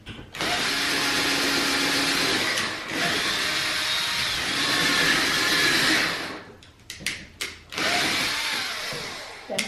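Power drill boring the last hole into a kitchen cart, a loud continuous whine held for several seconds, then a few short bursts and a final sustained run close by.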